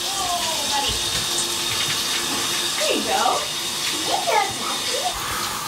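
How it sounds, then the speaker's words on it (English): Water runs into a bathtub to fill a bath for a thin shelter dog, a steady rush close by, with voices, including a child's, talking over it. "getting the water started for the doggy"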